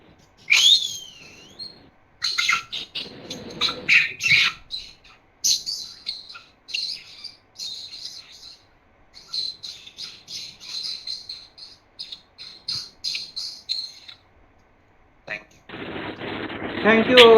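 A person imitates birdsong at a teachers day celebration, giving short whistled chirps and tweets in quick uneven bursts with brief pauses, ending in a harsh hissing burst.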